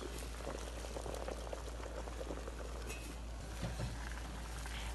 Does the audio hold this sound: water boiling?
yes